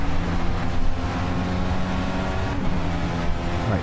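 Race car engine in Project Cars at the classic Hockenheim circuit, a loud, steady, high-revving drone heard from close range with only slight shifts in pitch, and no speech.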